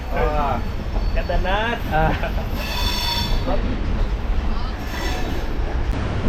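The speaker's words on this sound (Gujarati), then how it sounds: "ભાવનગરથી રેલગાડી ઉપડી ગઈ છે" A train departing Bhavnagar at night, bound for Haridwar, rumbles and squeals along the rails with steady low noise, while a voice talks over it.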